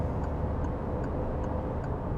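A faint, regular ticking repeats about every 0.4 seconds over a steady low engine and road drone inside a moving Peugeot 208 with a 1-litre petrol engine, in fourth gear.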